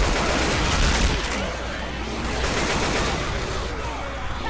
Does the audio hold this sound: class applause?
no